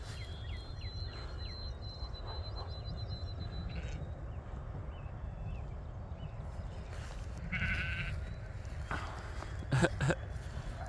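Sheep bleat a few times over steady outdoor rumble and wind, the calls fairly faint and distant.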